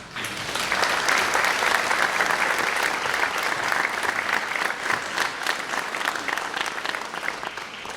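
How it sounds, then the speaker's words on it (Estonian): Audience applause at a centennial celebration of men's choral singing in Rakvere, Estonia: a sustained, dense burst of many hands clapping that swells quickly and holds steady at full strength for several seconds, loud and close. "aga teeme aplausile"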